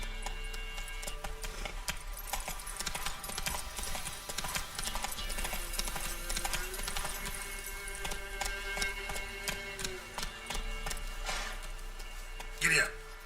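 Roach the horse gallops with a quick, continuous clip-clop of hooves across Witcher 3: Wild Hunt, ringing steadily over a low game ambience, with a brief rustle near the end.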